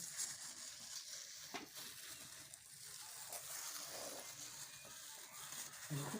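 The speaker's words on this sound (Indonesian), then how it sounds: "Aci digoreng." Cireng, a Sunda snack of tapioca starch dough, frying in oil gives a soft, bubbling sizzle with light stirring scrapes, quiet and close, and no one speaks.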